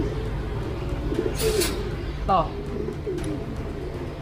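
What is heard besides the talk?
racing pigeons cooing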